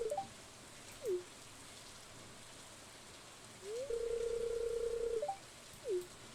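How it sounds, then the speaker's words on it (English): Steady soft rain patters in Stardew Valley throughout, faint and even, while sharp chirping game beeps and one sustained electronic tone sound over it. "I love the rain."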